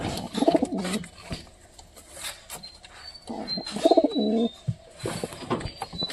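Two pigeons coo in short, throaty bursts close by, with soft rustling and pauses between the calls.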